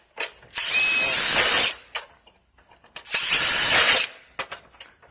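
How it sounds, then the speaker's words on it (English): Two loud bursts of a power drill boring holes through a metal gutter, each lasting about a second, separated by brief pauses with small clicks and handling noises. "So we're going to drill ourselves another one, go all the way around the edge."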